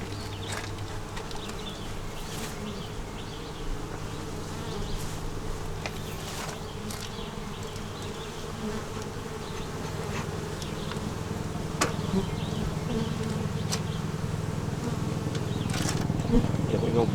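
Honey bees swarming around a hive box during an inspection, a dense continuous buzz close to the mic with individual bees whizzing past, growing slightly louder toward the end.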